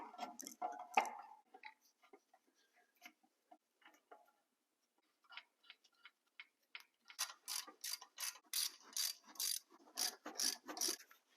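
Bolts being fitted and tightened on a power steering pump mounted to an LS engine: faint scattered metallic clicks and scrapes, then a close, steady run of rapid ratchet clicks.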